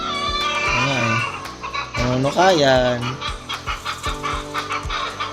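Chickens clucking on a rural farm in Baguio, a busy run of close, loud clucks and squawks with rising calls, while a person speaks briefly over them.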